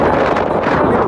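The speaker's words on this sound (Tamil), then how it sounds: "சரியான காத்து" Strong sea wind while out crab netting, a brief, loud, steady rush of gusting air pressing on the microphone.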